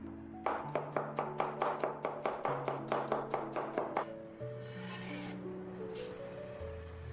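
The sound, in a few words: knife crushing and mincing peeled garlic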